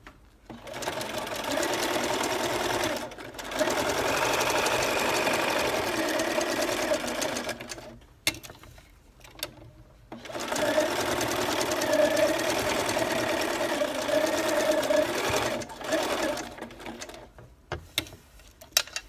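Sewing machine running a satin zigzag stitch along a lace scallop hem, in two long steady bursts of rapid mechanical whirring and ticking separated by short pauses, close and fairly loud.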